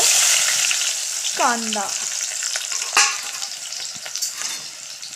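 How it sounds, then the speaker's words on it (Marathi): Masala spices frying in a pan for a Sunday chicken dish, a steady broad sizzle throughout, briefly under a short spoken word and a few stirring knocks. "सौदा मसाला टाकलेला आहे, त्याला चांगलं फ्राय होऊन द्यायचं"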